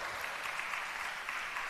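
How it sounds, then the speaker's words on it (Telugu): A church congregation clapping during a sermon, a brief, faint, even patter of many hands heard from a distance. "అర్థమైతే చప్పట్లు కొట్టండి"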